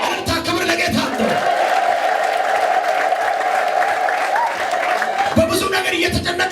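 Church congregation ululating, a long, sustained high trilling chorus from many women, loud and near, bracketed by crowd noise and shouting at the start and end.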